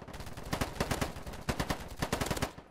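An AK-47 fires in rapid automatic bursts in the shooter game Polygon, with crisp repeated reports in quick rhythm separated by brief pauses, sounding close and clear with no talking over it.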